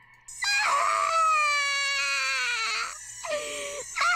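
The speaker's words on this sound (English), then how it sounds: "Satoko screamed." A girl in Higurashi screams in pain, a long, loud, wavering shriek that drops in pitch, then breaks into shorter cries after brief pauses.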